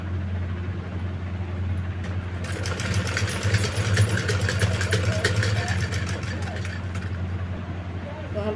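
Sewing machine stitching along a blouse sleeve up to where lace will be added, a steady mechanical whir and rapid needle chatter running throughout at moderate loudness.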